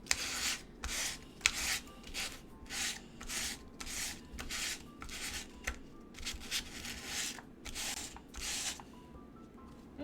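Sandpaper rubbed back and forth on a small laser-cut wooden piece from a UGEARS mechanical model kit, a steady series of about a dozen soft raspy strokes, close and quiet, with no talking.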